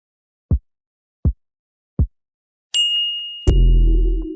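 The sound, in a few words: ding sound effect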